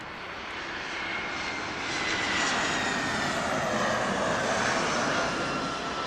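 A Southwest airliner coming in to land on runway 26 left at Las Vegas airport, a loud steady roar of engine and rushing air that swells slightly and holds, no voices.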